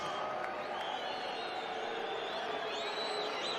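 A live crowd at a boxing event applauds and cheers for the national anthem singer, with a dense, steady wash of clapping and scattered whoops filling the arena and no talk.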